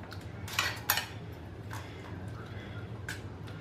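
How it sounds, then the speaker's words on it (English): Hot wings are tossed with a spoon, giving a few sharp metallic clinks and scrapes against the dish, two louder knocks early on followed by softer scattered taps over a faint background hum. "I'm just gonna toss these around a little bit."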